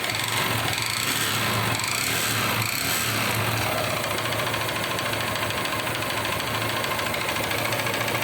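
A Honda CG 150 motorcycle engine runs with an abnormal knocking noise, a steady loud mechanical clatter throughout, close up and alone.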